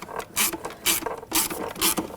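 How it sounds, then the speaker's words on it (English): A hand ratchet clicks in four quick bursts, close up, as it tightens the battery hold-down bolt on an Audi S4, with no talking. "you want to tighten the bolt down for the hold down."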